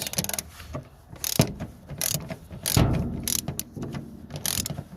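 Ratchet socket wrench on the 803cc Triumph engine, close and loud, with bursts of fast metallic clicking that stop and start again, and heavier clunks between the runs of ratcheting.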